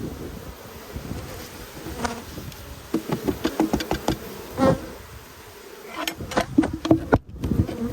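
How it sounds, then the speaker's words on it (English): Bees buzz close by around a hive, several loud passing drones rising and fading over a softer background hum, with a few knocks on wood. "Plenty of bees in the lid though."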